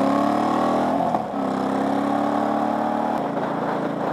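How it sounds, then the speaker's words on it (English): A cruiser motorcycle engine drones steadily and loudly as the bike takes a long, fast sweeping turn, with a brief dip in pitch partway through and a shift lower near the end. "this bike, though being a cruiser,"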